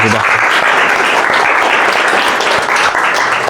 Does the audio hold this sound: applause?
yes